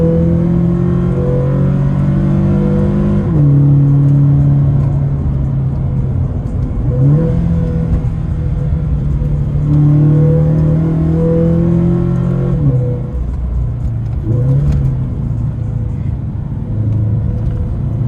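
A Toyota 86 climbing the highway toward Genting Highlands with its windows down. The engine drones loud and close, its pitch rising and dropping through several gear changes over constant road rumble.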